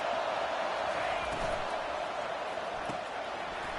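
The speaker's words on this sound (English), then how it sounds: "this crowd is tearing the lid off this place" A video game football stadium crowd roars in a constant, dense wash of noise, loud and unbroken, with a few faint thumps beneath.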